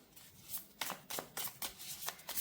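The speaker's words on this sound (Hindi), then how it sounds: "चलिए कुछ कार्ड्स मैं और निकाल लेती हूँ यहाँ से" Tarot cards drawn and shuffled from a deck, a quick series of crisp papery slaps and riffles close by, with no talking.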